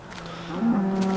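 A cow in the video game Minecraft gives a short, low moo that rises in pitch near the end, close and clear over faint background sound.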